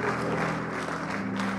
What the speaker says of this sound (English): Come on, let's clap for Jesus.